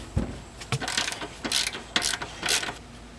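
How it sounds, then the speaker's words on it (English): A socket wrench loosens the rear axle nut on a motorcycle. It gives close, rapid ratcheting clicks in several short strokes. "take a socket wrench here and loosen up that rear axle there"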